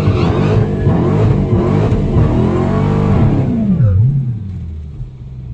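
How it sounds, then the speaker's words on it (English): A 2018 Dodge Challenger SRT Demon doing a burnout on a drag strip, its engine roaring loud and close with sustained revving that rises and then drops away. "Now go ahead and do your burnout."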